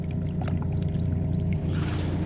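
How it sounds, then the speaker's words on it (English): Clean water flows steadily from a still-working farm field drain tile in East Greenbush, NY, a continuous pouring trickle over a low rumbling background, with no talk. "We got farm field drain tile still working, still pumping out. Beautiful clean water."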